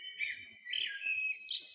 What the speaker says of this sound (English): I don't have to travel far to enjoy the blue sky or the birdsong outside my window.